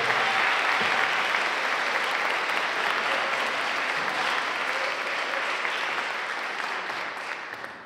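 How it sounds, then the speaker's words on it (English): Sustained audience applause at a school music concert, steady and full, tapering off slightly toward the end with no talk. "So if we could give him an early round of applause"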